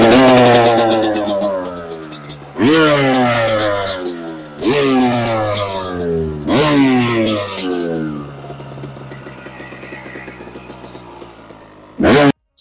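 A 2000 Kawasaki KX250 two-stroke dirt bike engine kicks over and catches, revving loudly in several sharp rising bursts before dropping to a rough idle, close to the microphone.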